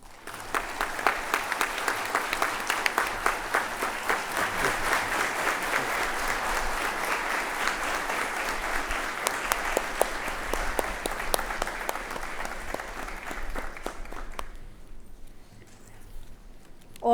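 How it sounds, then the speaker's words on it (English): Long, steady applause from a convocation audience, a dense continuous patter of many hands that holds evenly before thinning and stopping near the end. "You may now applaud"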